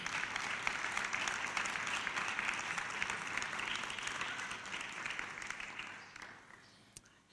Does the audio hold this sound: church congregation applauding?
yes